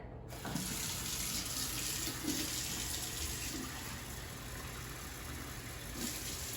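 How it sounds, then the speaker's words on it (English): Water pours steadily into an Instant Pot holding dry black beans with a continuous rushing splash, close by and fairly loud, lasting several seconds without a break. "And now we're gonna add 6 cups of water."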